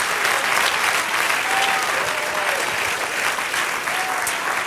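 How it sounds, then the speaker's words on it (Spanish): A church congregation applauds steadily throughout, a dense even wash of many hands clapping, with faint whoops rising briefly over it. "Dale un aplauso al Señor."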